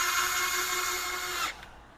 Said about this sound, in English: We're actually going to screw these fenders down to the block of wood.